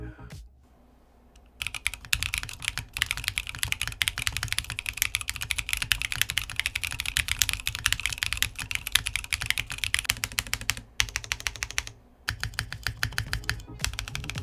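Rapid, continuous clacking of keys on a Duo Foundry Duo-M mechanical keyboard with no foam, close and crisp, with a couple of short pauses between bursts.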